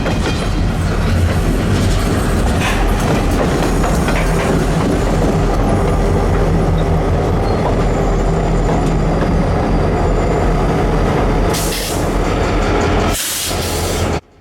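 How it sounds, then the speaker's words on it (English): A South Shore Line freight train led by locomotive 2000 accelerates at a crossing on the Kingsbury branch, a loud, continuous diesel roar with rumbling wheels and rail clatter that holds steady before cutting off abruptly. "the conductor got back on and climbed around the nose of 2000 to get back into the cab before the train accelerated with a bit of a smoke show"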